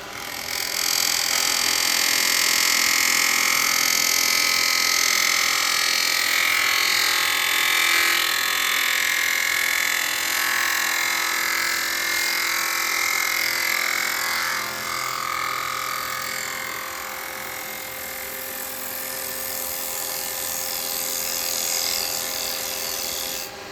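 A spindle gouge with a 55-degree bevel cuts into a spinning wooden workpiece on a lathe, a steady, loud broadband hiss and whir that runs continuously and eases slightly toward the end.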